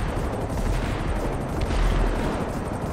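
Rapid, continuous helicopter cannon fire in GTA V roars steadily throughout, dense and booming with heavy low rumble and no pauses.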